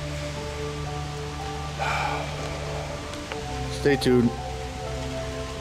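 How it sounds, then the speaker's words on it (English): Steady, hissing rain falls outdoors throughout, and someone speaks briefly near the end. "It could stop raining any second now."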